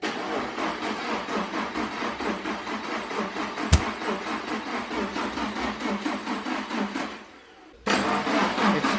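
A rebuilt Subaru Forester engine cranks on a start attempt, the starter churning in a fast, steady rhythm for about seven seconds, then a brief pause before cranking resumes, loud and close.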